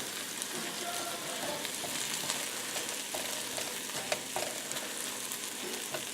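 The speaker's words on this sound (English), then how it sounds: "So they can continue cooking while we just slide all that tofu scramble goodness up in there" Vegetables and a tofu scramble fry in a pan with a steady, close crackling sizzle and occasional spatula scrapes, with no voices over it.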